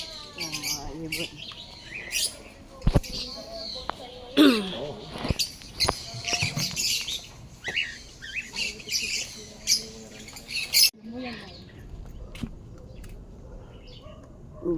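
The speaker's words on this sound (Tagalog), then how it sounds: "Ibon." Chirps, tweets and squawks of birds come and go at close range, mixed with clattering knocks and some background voices.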